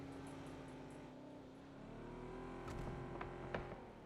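Vehicle engine droning steadily while driving in the PUBG battle royale video game, with a rising rev toward the end and a few sharp transient clicks over it, no talking.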